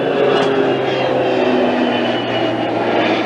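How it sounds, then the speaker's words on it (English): An aeroplane passes overhead, its loud, steady droning roar with a low hum filling the short stretch without a break. "oh, aeroplane coming"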